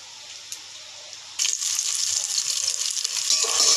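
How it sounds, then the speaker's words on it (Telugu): Biryani spices hit hot oil partway through, and a quiet pause gives way to a sudden, steady, bright sizzle close by that holds to the end. "ఈ ఐటమ్స్ అన్నీ నేను ఆయిల్లో ఫ్రై చేసుకుంటున్నానండి"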